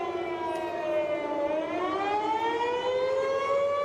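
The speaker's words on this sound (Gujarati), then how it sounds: "શ્રીનગરમાં સાયરન ગુંજ્યા" Air raid sirens in Srinagar give a continuous, wavering mechanical wail that slowly dips and rises, sounding steady and somewhat distant with no voices.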